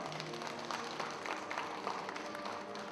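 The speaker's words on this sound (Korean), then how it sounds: "큰 박수 주시기 바랍니다" Applause from the audience at a Buddhist preservation society's inaugural ceremony, following an address delivered on behalf of the head of the Jogye Order; steady, fairly faint clapping fills the whole stretch with no voices over it.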